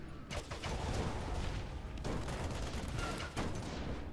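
Androxus unloads his ultimate in the Paladins video game, a rapid fusillade of gunshots in dense, overlapping bursts that continues steadily throughout, with no voices.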